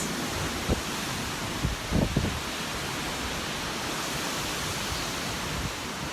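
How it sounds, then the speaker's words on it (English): Strong wind gusts rush steadily after a hurricane, a broad continuous roar with a few faint knocks, heard outdoors with no talk. "We're still getting those gusts."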